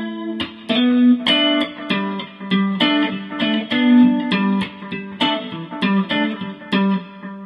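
Acoustic guitar playing measures 107 and 108 of a song, thumb-and-finger plucked chords with hammer-ons and a rest, a steady run of ringing notes and sharp attacks played alone, close and clear.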